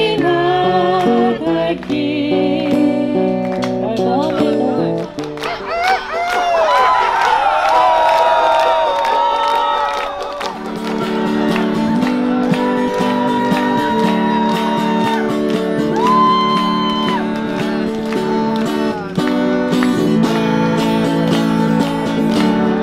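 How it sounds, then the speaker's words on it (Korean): Crowd at an outdoor arts festival near Noryangjin Fish Market, Seoul, cheering, whooping and shouting loudly, with clapping mixed in and children's shouts, a sustained roar of voices across the whole stretch. "큰 박수 부탁드리겠습니다."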